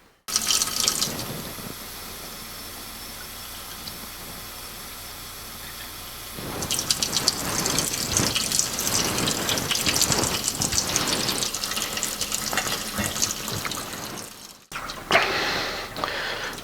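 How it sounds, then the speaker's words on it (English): Warm water runs from a kitchen tap into a container to soak sausage casings, first a quieter steady stream, then a louder splashing gush with a brief stop near the end. "So basically we're going to put a little warm water in there."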